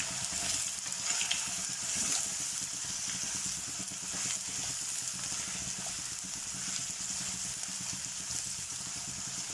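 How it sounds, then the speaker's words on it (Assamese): Onions sizzling in hot oil with bay leaves and dried red chillies for an Assamese mutton curry, a steady close crackle and hiss with occasional stirring scrapes, no talking. "এতিয়া মই ইয়াতে পিঁয়াজখিনি দি দিম।"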